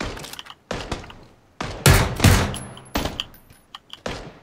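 Bursts of enemy gunfire in PUBG, with sharp close shots and impacts landing around the player in uneven clusters, loud and without talk.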